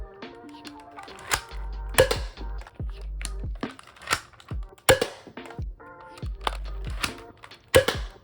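A Nerf Hotshock PRO blaster is primed and fired three times in a grouping test, each sharp crack preceded by mechanical clicks and clatter of handling, close and fairly loud.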